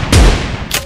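Two loud, booming gunshots in the video game PUBG come about half a second apart, each a sharp broadband crack with a heavy low thump and a short ringing tail.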